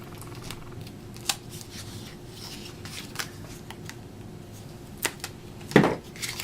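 A paper closure tab for a small handmade photo album being scored down its center with a tool, giving a few sharp scratching strokes and taps spaced across a quiet room, the strongest stroke near the end.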